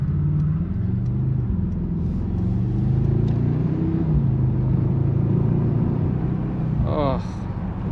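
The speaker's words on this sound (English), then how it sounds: "it just feels so good driving this car." A 2025 Mercedes-Benz SUV from the GLE/GLC lineup drives along, giving a steady low engine and road rumble inside the cabin, fairly loud and continuous, with a brief higher whine near the end.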